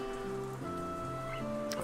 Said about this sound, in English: For a while, I just idly watched the rain falling outside.